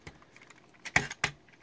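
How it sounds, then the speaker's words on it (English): Back cover of a wireless Razer Ouroboros gaming mouse being clicked off, a few sharp plastic clicks close up, two louder snaps near the middle among faint handling taps. "you can take this back bit off by clicking"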